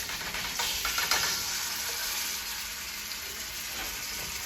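Rice and mushroom vegan burgers, chilled in the freezer beforehand, fry in a pan with a steady, close, moderately quiet sizzle and hiss. No one speaks.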